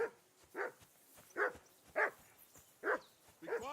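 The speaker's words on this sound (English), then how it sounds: "can hear that damn dog of yours barking" A dog in the video game Kingdom Come: Deliverance 2 barks repeatedly, about six short sharp barks spaced roughly half a second apart, slightly distant, with a whine at the end.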